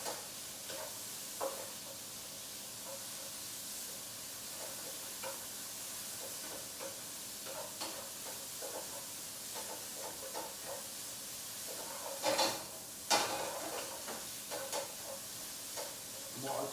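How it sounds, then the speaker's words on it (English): Beef frying in a pan over high heat, a steady low sizzle throughout with occasional stirring clatter and a brief louder burst near the end, no talk. "Just frying this for a couple of minutes, just until it gets a bit of colour"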